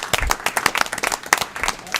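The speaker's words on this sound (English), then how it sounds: "Let's give him a round of applause for TAR." A meeting audience gives a round of applause, brisk dense clapping from a small room-sized crowd, with voices mixed in throughout.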